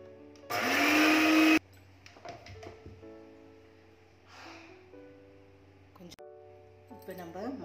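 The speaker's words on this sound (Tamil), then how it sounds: "ஜீரகத்தையும் கொத்தமல்லியும் நம்ம கொஞ்சம் கொரகொரப்பாக அரைச்சி எடுத்துக்கிறோம். இது வந்து ட்ரையாக அரைச்சி எடுக்கிற மிக்சி." A dry-grinding mixer blitzes cumin and coriander seeds coarsely, one loud close whirring burst of about a second, followed by quieter kitchen clatter and a person talking.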